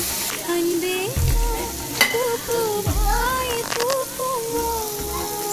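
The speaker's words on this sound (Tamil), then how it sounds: "வெங்காயம் பச்சை மிளகாய் போட்டு வதக்கிடணும்" Onions and green chillies sizzle in a hot pan while being stirred, with scraping clinks and a soft voice murmuring in the background.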